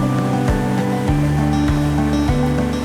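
Black and yellow water taxi on Rotterdam's waterways, passing under the Erasmus Bridge, runs with a loud steady engine drone, its pitch stepping up and down over rushing water and spray on a bumpy crossing.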